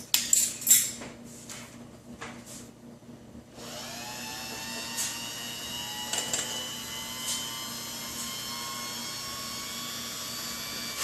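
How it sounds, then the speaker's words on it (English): Electric hand mixer beating lemon meringue pie mixture in a bowl until foamy, a steady whirring motor hum after a few clicks and clatters at the start, close and continuous with no talk. "You're going to beat this with an electric mixer until it turns foamy."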